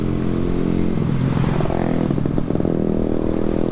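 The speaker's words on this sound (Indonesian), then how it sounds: "Nah itu ya masih menggunakan knalpot racing gitu" A motorcycle fitted with a racing exhaust roars past in a residential housing area. The loud, raspy engine noise is constant and close, swelling in the middle as it passes and then easing off.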